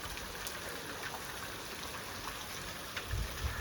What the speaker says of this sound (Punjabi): ਬਾਰਿਸ਼ ਵੀ ਜੁੜ ਪਈ ਆ